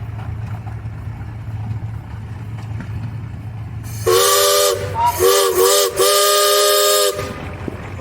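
A steam traction engine at a steam tractor parade sounds its whistle in one long, loud, harmonic blast broken by brief stutters, standing out sharply over a low background rumble.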